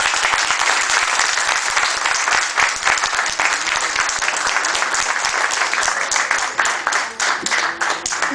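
A university audience at a book presentation applauds the author, a loud, sustained, even burst of many hands clapping with no break.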